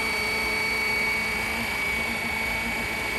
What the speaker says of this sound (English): Just practice holding the helicopter in one place.